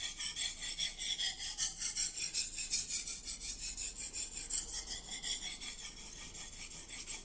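A Racer M knife sharpened on a Japanese whetstone: repeated rhythmic rasping strokes of steel across stone, close and fairly quiet, about two strokes per second, with no talking.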